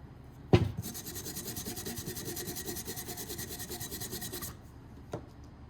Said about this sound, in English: I don't know if I can brush it a little bit more and read it